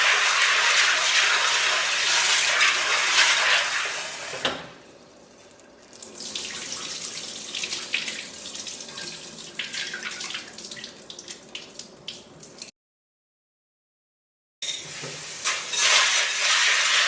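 Bambara beans rinsed under a running kitchen tap, a steady loud gush of water that softens and changes pitch as the beans are stirred, then stops abruptly for a couple of seconds before the flow resumes.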